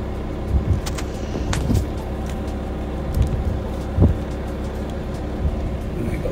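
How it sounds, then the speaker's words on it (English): Car driving along a road, a steady low engine and road rumble from inside the vehicle with occasional bumps and knocks, no talking. "Drive down here a bit and see what we can see"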